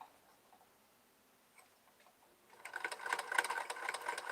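A sewing machine starts up partway through after near silence, running in a fast, even ticking chatter that stays fairly quiet and close.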